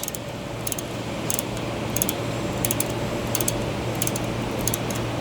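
A wrench tightens a nut on a liquid receiver valve, making a fast, steady ratcheting click in short bursts over a constant loud mechanical hum. It is close, with no talking.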